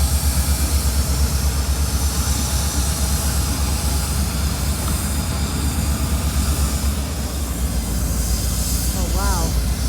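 A CSX freight train with locomotives and boxcars rolls past nearby, giving a steady, loud low rumble and roar of engines and wheels on rails that holds for the whole stretch, with faint squealing toward the end.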